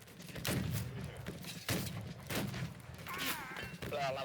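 Heavy thuds and booms of artillery fire in the American Civil War game Battle Cry of Freedom, several blasts spread over a few seconds amid battlefield noise, with voices talking throughout.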